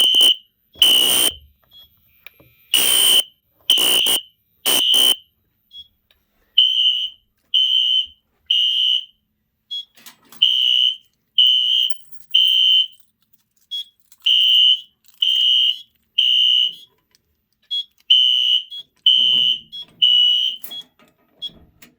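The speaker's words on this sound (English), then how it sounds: "Fire alarms are what everyone comes here for." A loud fire alarm sounds during a system test in repeated harsh electronic bursts, starting with a few strong blasts, then settling into a steady rhythm of horn pulses.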